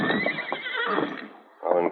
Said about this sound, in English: That's Tonto's horse, Scout.